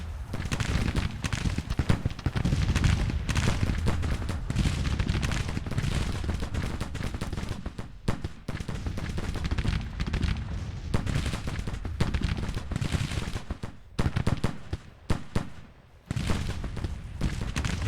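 Dense Civil War battle in a strategy game: continuous volleys of musket fire layered with booming cannon artillery, loud and sustained throughout with brief lulls, rolling crackle and deep thuds overlapping.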